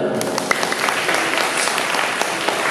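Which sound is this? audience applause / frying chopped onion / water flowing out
audience applause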